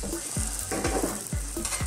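A beef and mustard grilled cheese sandwich sizzles steadily in a pan over very low heat after being flipped, with a constant close frying hiss and a few soft scraping stirs of a utensil against the pan.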